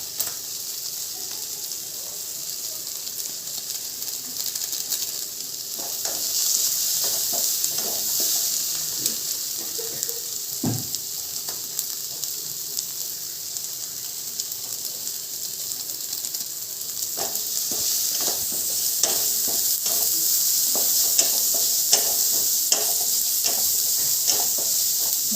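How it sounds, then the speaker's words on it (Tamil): Chicken noodles tossed with noodle masala powder in a pan give a steady soft hiss, with scattered scraping and clicking of a spatula against the metal, no talk. "நல்லா வதக்கிடலாம்."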